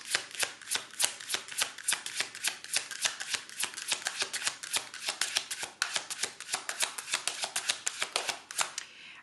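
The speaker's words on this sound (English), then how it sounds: "as I was shuffling" A deck of tarot cards is shuffled by hand in a steady, rapid riffle of crisp, papery flicks that carries on for several seconds, close and clear with no voices.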